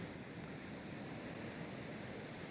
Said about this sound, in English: the waves are moving and crashing and there's a lot of texture and energy out there